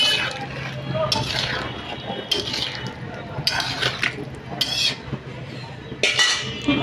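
Potato and okra curry stirred with a spoon in a pot after salting, bursts of metallic scraping and clinking against the pot over a soft background, close by.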